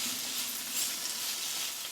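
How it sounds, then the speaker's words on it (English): Celery fries in a stew pot with boiling water, salt, turmeric and pepper, giving a steady, close hiss of sizzling that holds evenly and stops abruptly at the end, with no voices. "Celery is frying."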